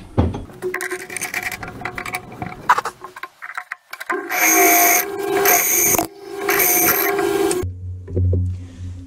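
Loud bursts of a drill boring an oil hole in metal for an oil fitting, two long grinding runs separated by pauses, with clinks and scraping of tools around them.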